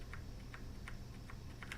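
Typing on a mechanical keyboard with brown switches, a board sold by a keyboard shop, heard as steady, evenly spaced key clicks alone and close up over a constant low background hum.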